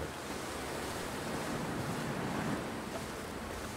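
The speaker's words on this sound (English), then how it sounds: "is this just me walking against the wind?" Steady, broad wind rushes without a break while walking outdoors in The Long Dark, a constant roar like surf that stays close and fills the whole clip, with no voices.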